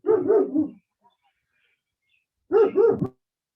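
Two dogs walking past a house bark in two short bursts of several quick barks each, separated by a couple of seconds of silence, fairly close and loud with no talk.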